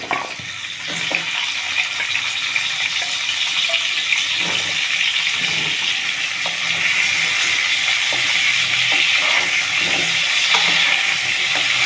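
Potatoes frying in a little oil in a pan, a loud, steady close sizzle with faint clinks and stirring ticks, continuous for the whole stretch without talk.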